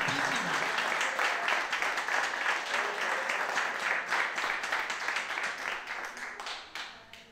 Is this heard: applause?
yes